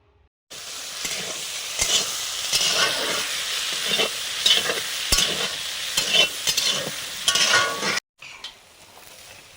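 Yardlong beans hiss and crackle as they stir-fry in a pan, with frequent spatula scrapes and knocks against the metal over a steady close sizzle before a brief quiet break.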